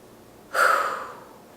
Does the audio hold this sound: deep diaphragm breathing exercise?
yes